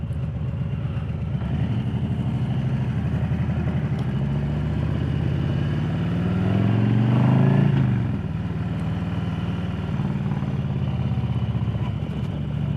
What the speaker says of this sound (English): It sounds so good to ride a bike in downtown Lakeland.